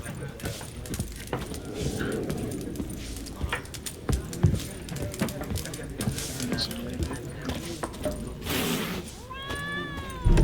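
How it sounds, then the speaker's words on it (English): A cat meows in The Witcher 3 during a quiet interior scene, with a short rising meow near the end following game ambience, footsteps and background chatter. "Shut up, stupid cat."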